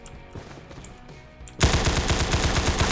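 A Galil rifle fires in a Roblox CS:GO game, a sudden rapid burst of automatic shots after a quieter stretch of clicks and game sounds, loud and close.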